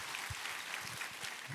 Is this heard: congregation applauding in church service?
yes